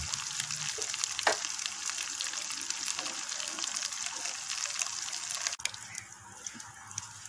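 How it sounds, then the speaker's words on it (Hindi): Pieces of arbi (taro root) fry in a pan, giving a steady, close sizzle and bubbling hiss with small crackles throughout, easing slightly in the last couple of seconds. "अरबी जो है फ्राई हमने कर ली है और हम इसको जो है निकाल लेंगे।"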